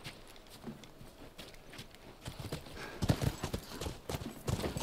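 Hooves of horses clip-clopping in The Last of Us, starting soft and sparse, then growing louder and busier as the animals draw nearer, with irregular overlapping strikes and a faint snort-like texture in the mix.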